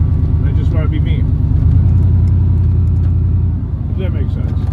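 A truck cruises down a bare, windy street, its engine giving a steady low drone from inside the cab while a person talks over it. The rumble dips slightly near the end.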